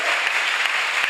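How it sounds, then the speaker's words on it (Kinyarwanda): A church congregation claps together in a sustained, dense burst of applause that stays steady and loud throughout. "Ndabasabye amashyi kuri Yesu, ndabasabye mukomera amashyi Yesu"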